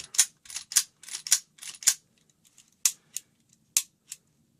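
A SCCY CPX-2 pistol is dry fired, giving a rapid series of sharp metallic firing pin and trigger clicks. A quick burst of about six is followed by a pause and then a few sparser, isolated clicks, close and crisp with no speech.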